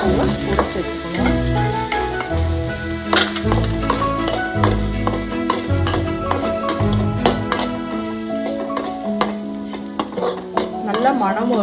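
Tamarind and freshly grated coconut sautéing in a pan give a steady sizzle and frying crackle with stirring scrapes, heard under continuous background music with no talk.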